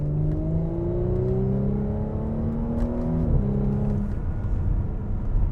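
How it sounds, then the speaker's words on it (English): An Audi S5 engine drones loudly from inside the cabin, its pitch sliding through gear changes as it downshifts, with a few faint crackles of small backfires near the end. "when you downshift, you get this little tiny backfires"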